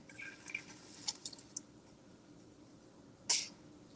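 Molten glass drips from a blowpipe into a water bucket in a glassblowing studio, giving faint scattered ticks and rattles over a steady hiss, then one sharper crackling splash near the end.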